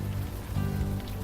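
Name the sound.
rain in video game Unavowed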